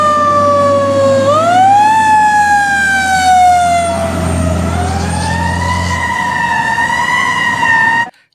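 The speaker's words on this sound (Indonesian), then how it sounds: "Wah, ada mobil pemadam kebakaran." A loud fire engine siren wails up and down in slow sweeps close by, over a low engine rumble, then cuts off abruptly.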